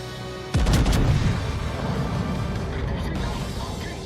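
Warship main guns fire a heavy broadside in a naval combat video game, a loud booming blast followed by rumbling echoes and sustained battle noise that slowly fades.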